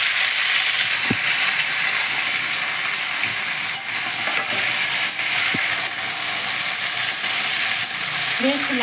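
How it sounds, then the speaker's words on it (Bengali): Green jackfruit fries in hot oil in a wok, giving a loud, steady sizzle throughout with a few sharp clicks and scrapes from stirring, close and continuous, with no talking. "এবার আমি কড়াইতে তেল দিয়ে এঁচোড়টাকে সুন্দরভাবে ভেজে নেব।"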